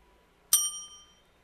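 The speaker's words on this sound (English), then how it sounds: "So it have some kind of bell which is ringing over here." A single bright bell ding from an Unreal Engine game, struck once and ringing out with a clear, fading metallic tone over near silence.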